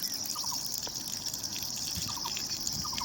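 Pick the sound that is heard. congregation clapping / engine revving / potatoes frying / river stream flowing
river stream flowing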